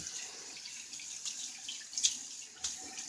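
Water runs steadily from a spigot with a soft hiss during a wet shave, a few brief splashes standing out near the end.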